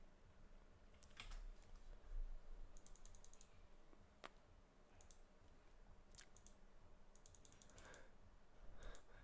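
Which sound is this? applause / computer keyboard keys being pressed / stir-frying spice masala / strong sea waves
computer keyboard keys being pressed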